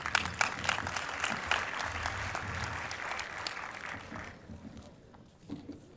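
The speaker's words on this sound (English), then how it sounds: "If you guys could give him a round of applause, please." An audience at a speaking event gives a steady round of clapping that holds for several seconds, then thins out and fades, with a few claps lingering near the end.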